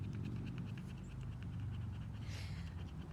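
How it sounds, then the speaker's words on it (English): A dog pants steadily and rapidly close by, rhythmic quick breaths over a low, continuous background hum. "the thing you can hear panting down there, that's definitely my escort"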